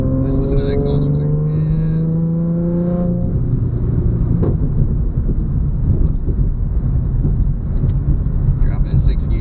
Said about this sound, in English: Let's listen to the exhaust for a second.